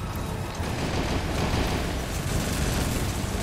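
Gunfire and explosions in Metal Gear Solid V: The Phantom Pain, a loud, unbroken wall of combat noise with heavy fire blurring into a continuous rumble throughout.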